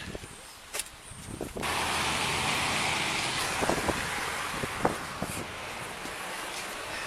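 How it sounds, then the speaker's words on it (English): Cars roll past on a roadside during a police traffic stop, a steady broadband road and wind rush swelling from about the second mark, with brief sharper swishes as vehicles go by close. "we got cars coming"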